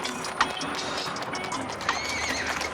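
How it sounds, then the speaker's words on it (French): Horses run down a straight lane at an Irish Travellers' horse-selling spot, their neighs and whinnies rising over a steady clatter of hooves, with no voices. "les chevaux sont lancés jusqu'à 50 km/h"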